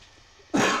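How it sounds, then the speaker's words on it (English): After a moment of near silence, a single loud cough bursts out close by. "Oh, there's another cough."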